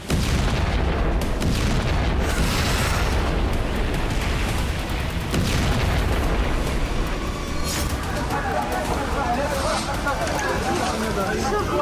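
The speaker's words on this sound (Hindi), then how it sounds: "एक साथ आधा दर्जन से ज्यादा मिसाइलों ने जबालिया कैंप के 2500 वर्ग मीटर इलाके को खंडहर बना दिया" Missile strikes exploding over the Jabalia refugee camp, with a continuous roar of loud, rumbling blasts and crowd commotion throughout and people shouting over the din.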